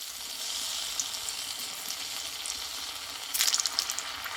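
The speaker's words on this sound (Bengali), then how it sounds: "এবারে এই পুলিগুলোকে আমি ভেজে নেব" Bengali puli dumplings fry in very hot oil, a steady bright sizzle running throughout with a louder crackling burst near the end as more dumplings go in; no talking.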